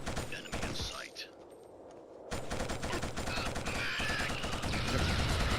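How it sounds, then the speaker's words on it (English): Rapid gunfire from the first-person shooter Killzone, a brief burst followed by a quieter pause with faint voices, then dense continuous automatic fire building steadily louder and closer. "Gunning those guys down that trench."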